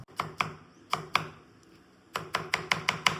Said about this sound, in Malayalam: നമ്മൾ പൈനാപ്പിൾ കട്ട് ചെയ്യാൻ പോകണം.